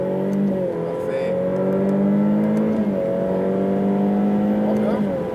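A Ferrari F8 Tributo on a racetrack at Fontenay-le-Comte, its engine droning loud and close at full throttle with rising pitch and brief dips at gear changes, heard from inside the car.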